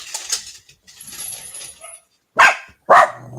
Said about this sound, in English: somebody's dog is loose?